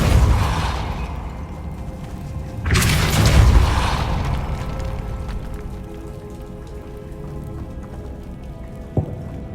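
A Depulso force spell is cast in Hogwarts Legacy, a sudden loud whooshing burst that swells and fades over steady rain-like ambience, followed later by a short sharp knock.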